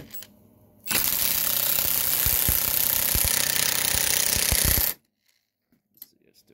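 An impact wrench set to maximum torque hammers on a two-piece Ford spark plug in one continuous burst of about four seconds, loud and close, with sharp metallic clanks, then stops into near silence.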